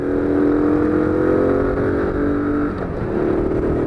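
Honda CT110 motorcycle engine under way on a ride, a loud steady droning hum that dips briefly as the revs shift, heard up close with no talking.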